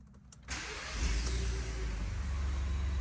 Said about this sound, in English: let's go ahead and start this vehicle up for y'all.